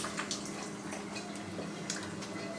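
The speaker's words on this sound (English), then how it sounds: "Let me rinse this off, and then I'll show you guys the next one." Magic Bullet blender cup rinsed under running kitchen tap water, a steady soft flow with a few sharper splashes and drips, fairly quiet and close, with no talking.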